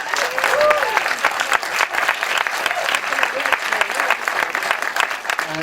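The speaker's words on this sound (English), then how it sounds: "could we just have a round of applause for my mum?" An audience at a film premiere event applauds loudly and steadily for several seconds with dense, continuous clapping and a few faint voices mixed in.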